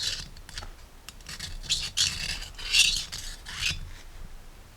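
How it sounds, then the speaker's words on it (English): Scraping and rasping inside the O-ring groove of a Jeep Saginaw steering gear box, with short bursts of metal-on-metal scratching in an uneven rhythm. The sound is close-up and moderately loud, and no one speaks over it. "I'm going to clean out this groove right here that we're having issues with"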